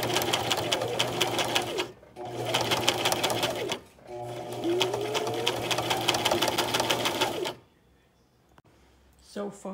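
A sewing machine stitches the back hem of a slipcover in three close, rapid whirring bursts separated by brief pauses, then stops near the end.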